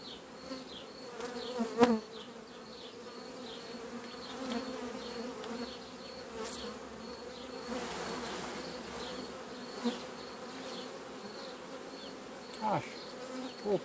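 Honeybees buzz around a brood frame being worked during hive inspection, a steady droning hum close to the listener with individual bees whining past and a few sharp knocks and clicks from handling the frame.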